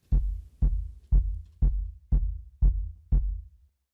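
Seven deep, booming kick drum hits land evenly about half a second apart. Each one is a heavy low thump with a short tail, and no other sounds.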